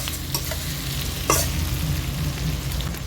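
Garlic and spices fry in a pan while being stirred, a steady close sizzle with soft scraping strokes and one brief louder scrape midway, no voices.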